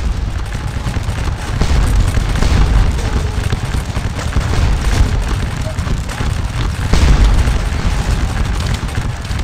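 Artillery and musket fire in Scourge of War: Waterloo as the Nassau Light Infantry come under heavy fire: a dense, continuous roar of booms and crackling volleys, loud throughout with swelling bursts.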